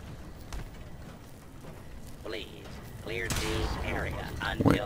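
Gunfire rattles in a Fallout 4 firefight, a handful of distant shots and bursts popping under continuous game music and effects, with the action growing louder toward the end.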